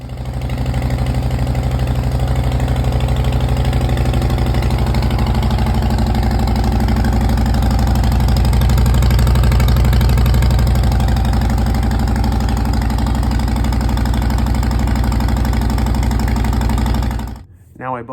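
A 2012 Harley-Davidson Fat Boy with stock Harley-Davidson silencer mufflers idles close by, a steady, loud, low exhaust rumble that holds for the whole stretch and then cuts off sharply at the end.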